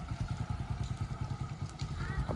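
A motorcycle ridden slowly in figure-eight loops during trials-bike practice at a driving school, its engine putting out a steady low pulsing throb that rises and falls gently throughout.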